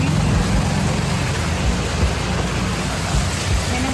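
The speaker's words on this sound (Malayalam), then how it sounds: "മഴയിട്ട് നല്ല മഴയുണ്ട്" Heavy rain pours down in a dense, unbroken hiss, loud and constant from start to finish.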